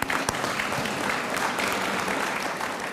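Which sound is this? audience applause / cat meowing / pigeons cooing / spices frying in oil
audience applause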